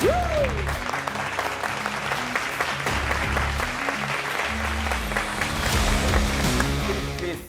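A studio audience on a talk show gives loud, continuous applause welcoming a guest onto the stage, the clapping carrying over a musical sting and low background music.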